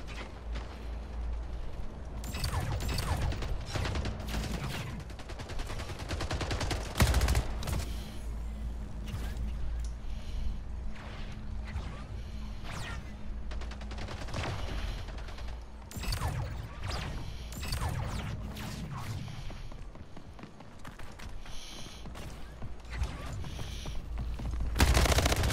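SMG gunfire in the video game Splitgate, rapid bursts of automatic shots repeating through a busy stretch of close-range shooting, with other game sounds mixed in.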